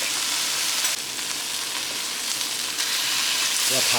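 Food frying in a pan during home meal prep, a loud continuous sizzle that fills the whole stretch, with a brief voice near the end.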